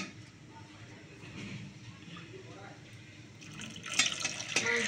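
Water pours into a cooking pot of singh fish and winter radish curry, a soft trickling under a quiet kitchen hum that swells and splashes louder in the last second or so.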